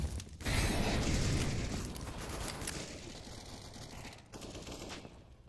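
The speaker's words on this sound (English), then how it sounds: "Jabbo with the Galil, tapping away, gets one." Rapid Galil rifle fire in a competitive first-person shooter match, a dense continuous burst of shots that stays loud and close, with no talk over it.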